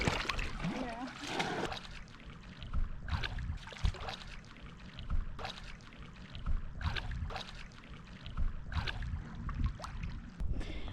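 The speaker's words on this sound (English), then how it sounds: "I am here kayaking on this beautiful lake" Kayak paddling on Lake Cowichan, with soft rhythmic splashes and drips of the paddle dipping into the water at close range, repeating every second or so under scattered quiet talk.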